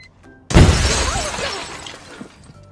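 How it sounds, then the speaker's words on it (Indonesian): Car windows shatter all at once in a comedy film scene set in a desert, a sudden loud crash of breaking glass followed by a long tinkling, fading spill of shards. "semua kaca mobil malah tiba-tiba pecah"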